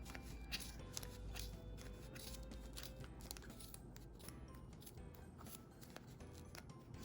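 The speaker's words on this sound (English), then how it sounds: "The little scissors struggle just a touch, but Fiskars are good and sharp" Quiet, repeated snips of small Fiskars scissors cutting through crochet fabric close up, a steady run of soft clicks and crunches over low background hum.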